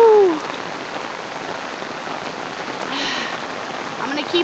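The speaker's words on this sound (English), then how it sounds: "I don't know if you guys can tell just how hard it is raining right now" Hard rain pours onto a street running with little rivers of water, a steady broadband hiss that fills the clip, with a brief whistle-like tone at the start and a short vocal sound near the end.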